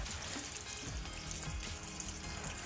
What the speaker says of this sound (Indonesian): kita tambahkan minyak panas ya, minyak panas di penggorengan ayam tersebut